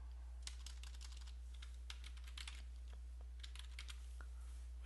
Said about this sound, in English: Type my password here.